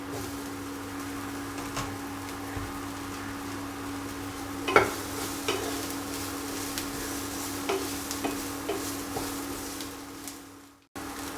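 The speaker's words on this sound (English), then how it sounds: "Let the capsicum start getting fried up properly." Capsicum frying in a pan alongside onions for a pepper chicken fry, giving a steady, soft sizzle throughout with an occasional clink of a spatula stirring; no one speaks.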